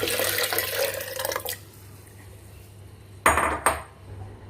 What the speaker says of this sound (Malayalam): നമ്മുടെ മിക്സിയുടെ ജാറിലേക്ക് നമ്മുടെ ആദ്യമേ തന്നെ നമ്മൾ എടുത്ത് മാറ്റി വെച്ചിരുന്ന നമ്മുടെ തേങ്ങയുടെ വെള്ളം നല്ലപോലെ ഒഴിച്ചെടുക്കാം